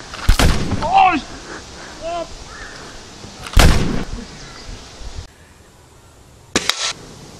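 Loud Kalashnikov rifle shots crack close by at a 50-metre range, three separate blasts spaced a few seconds apart, with brief echoes and some background voices between them.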